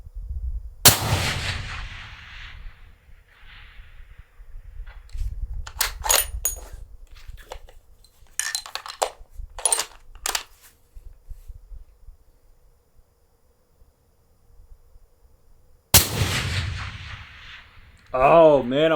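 Suppressed Barrett MRAD rifle in .338 Lapua Magnum fires two loud, sharp shots about fifteen seconds apart. Each shot rings out into quiet outdoor air, with brief talk between them.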